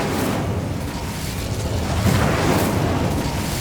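An Incendio fire spell cast in Hogwarts Legacy gives a loud, dense rumbling whoosh like a burst of flame, with a low swell partway through and no speech.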